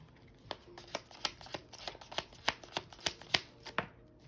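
A Wild Unknown Tarot deck is shuffled by hand, a run of crisp, close riffling taps and snaps in an irregular rhythm, quiet and without any talking.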